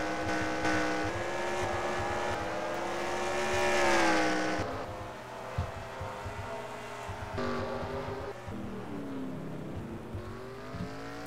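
Race cars in a Cup Series video game race at Sonoma, engines revving and shifting with rising and falling pitch sweeps as several cars pass near, loud and continuous without talking.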